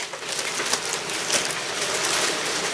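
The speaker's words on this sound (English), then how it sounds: "If you hear all that noise outside, it's just a bunch of hail." Hail strikes the side of a window in a steady, dense, hissing patter with scattered sharper ticks, continuous and fairly close.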